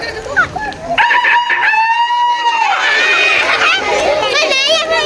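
A person's voice imitates a rooster's crow in one long, rising and wavering call at an elementary school session, with some brief vocal sounds before it and chatter after.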